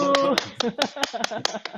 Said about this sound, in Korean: 우리 이 대목에서 박수 한번 칠까요?